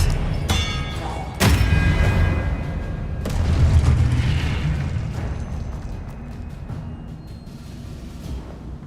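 Disarming spell cast in the fantasy action game Hogwarts Legacy: a sharp magical impact with a deep boom, then rumbling, thudding combat effects that gradually fade.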